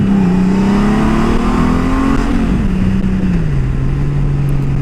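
2019 Honda Goldwing motorcycle pulling away from a stop, a loud close engine drone rising in pitch, then easing off as it shifts, steady and continuous with no talk.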